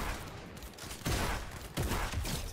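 Gunfire in a video game's gun game mode, dense bursts of shots layered over constant game noise, with two louder volleys about a second apart; no talking.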